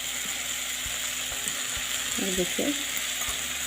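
Sabudana (tapioca pearls) hits a pan of spiced masala, giving a steady, faint hiss and sizzle with a couple of scraping stirs. Someone briefly speaks over it.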